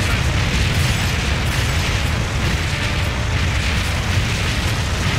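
Dense, continuous booming and rumbling from heavy cannon fire in the pirate arcade gun game Deadstorm Pirates, loud and steady with no pauses, filling the whole stretch.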